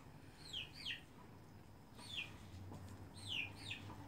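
Young chickens, grown from chicks, give repeated short chirpy clucks in pairs at a moderate distance, with a low steady background hum and no talking.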